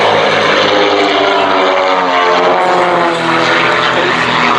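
A Grumman Wildcat propeller fighter with a large radial engine drones loud and steady at an airshow, the roar holding close and continuous throughout, with no voices.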